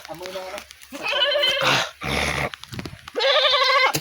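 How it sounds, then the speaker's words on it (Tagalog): A goat bleats loudly several times in wavering cries, close by, with brief pauses between calls and some background chatter. "Kawawa ng kambing dito kay Dante"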